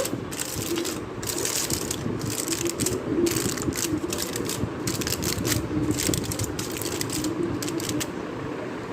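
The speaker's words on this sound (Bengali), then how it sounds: "এখন এটার উপরে আমি একটা ফয়েল পেপার দিব" Foil paper being pressed and crinkled over filled malai ice cream molds makes a steady stream of crackling, rustling crunches, close and fairly loud, with no talk.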